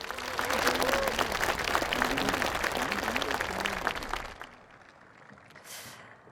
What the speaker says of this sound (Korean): 멋진 공연을 보여주신 경찰 교양악단과 경찰 국악대 그리고 서울지방경찰청 악대 여러분께 큰 박수 부탁드립니다.